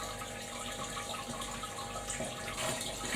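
Wort trickles slowly out of a home-brew mash of a Citra and Mosaic pale ale, a faint, steady watery drain with a slightly louder gush near the end, no talking.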